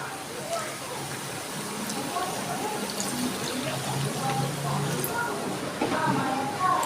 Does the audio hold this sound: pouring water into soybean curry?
yes